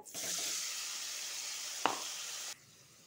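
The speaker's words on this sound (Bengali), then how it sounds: "আগে আলুটা ভেজে নিব" Potatoes frying in oil for a broiler chicken dish give a steady, fairly loud sizzle that runs alone and cuts off abruptly near the end, with one sharp tap midway.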